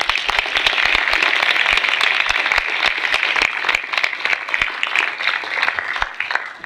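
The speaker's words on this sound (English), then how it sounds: "Let's give our veterans a round of applause." Veterans in a room are honored with sustained audience applause: dense, energetic clapping with sharp individual claps standing out, loud and continuous before tapering slightly near the end.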